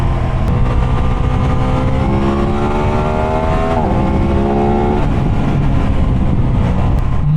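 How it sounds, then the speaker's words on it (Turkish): An Aprilia RS 660 sport motorcycle engine revs loudly and steadily, its pitch climbing in stages and then easing off, with a constant close mechanical roar and no talk. "motorun sesi çok fazla yok ama 8-9 bin devirden sonra resmen kükremeye başlıyor"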